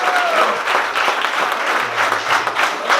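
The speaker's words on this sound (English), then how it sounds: "Please give a clap for that." A crowd at a DC hip-hop honors ceremony claps warmly, a continuous, fairly loud patter of many hands with a brief murmur of voices mixed in.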